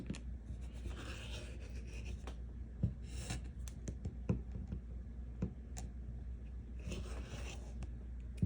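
A blade trims a fabric half-square-triangle quilt block along a ruler, making a few soft scraping strokes and light taps close by against a low background hum.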